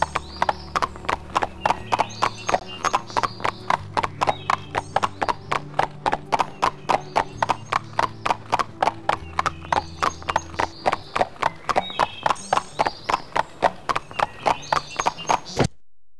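Horse hooves clip-clop in the Barbie Horse Adventures video game, a fast even gallop rhythm that stays loud and continuous for the whole stretch, with low musical tones underneath and a neigh-like call near the start and end.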